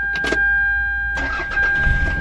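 A car engine cranks briefly and fires up, settling into a close, steady running note after a short pause, with a constant electronic whine beneath.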